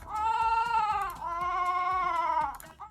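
Two cartoon sheep bleats from a children's coding game play back to back, the second pitched slightly differently as if sped up, each a wavering nasal baa heard clearly and alone.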